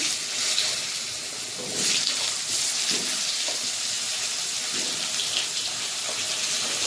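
Vegetables and potatoes frying in a pan for a Bengali katla fish curry, a steady loud hiss and sizzle with occasional stirring scrapes, close and alone.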